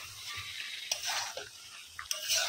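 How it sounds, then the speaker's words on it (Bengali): Chicken frying for pulao sizzles softly in a pan while a spoon stirs it, with a few sharp scraping clicks against the pan over a steady low hiss. "আমার চিকেনের এই অবস্থা, একটু নাড়াচাড়া দিয়ে দিই"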